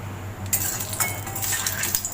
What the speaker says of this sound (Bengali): এখানে আমি আর একটা কড়া বসিয়ে দিলাম